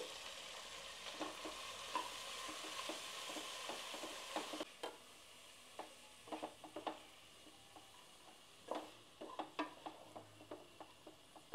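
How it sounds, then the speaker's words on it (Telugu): Fennel seeds and chana dal fry in coconut oil with a soft, steady sizzle, while a spoon stirring the pan adds scattered clicks and scrapes. "సోంపు, తినే శనగపప్పు, ఇవన్నీ ఒకటి తర్వాత ఒకటి మనం కొబ్బరి నూనెలో వేయించుకోవాలి."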